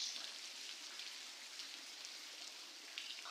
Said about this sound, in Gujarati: બહુ વરસાદ પડ્યો પણ મજા આવી ગઈ.